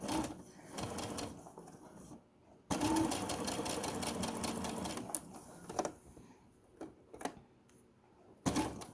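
Stitching a tote bag seam near a handle, the sewing machine whirs in several short runs with pauses and small clicks of the presser foot between them.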